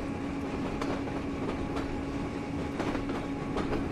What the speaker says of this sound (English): just watching the way the locomotive's moving on the tracks.